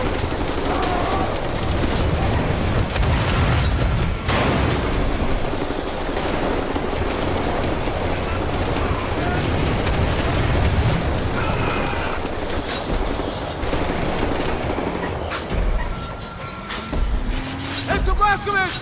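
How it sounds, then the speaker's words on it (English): Wolfenstein: The New Order combat with rocket launcher fire and explosions, a dense, loud, continuous barrage of blasts and rattling gunfire running throughout, with game voices shouting over the din. "rocket launcher!"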